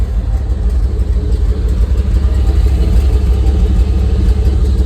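An old Chevy truck engine idles steadily up close, a loud, even low rumble that runs without a break and with no talking.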